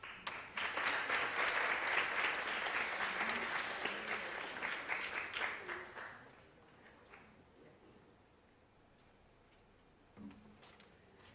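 An audience at a campus lecture applauds to welcome the speaker, a dense burst of clapping that holds for about six seconds, then thins to a few scattered claps and quiet room noise.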